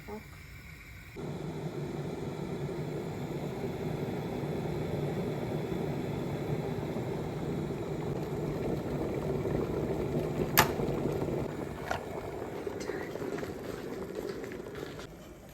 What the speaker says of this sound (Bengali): এইটা এখন সিদ্ধ করব মুগ ডালটা আগে একটু সিদ্ধ করে নিব